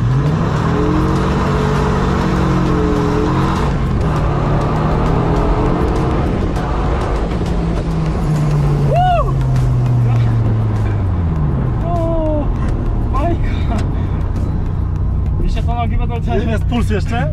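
Dodge Viper sports car engine droning loud and steady while driving, with surging pitch as it accelerates, heard from inside the cabin under excited passenger talk throughout.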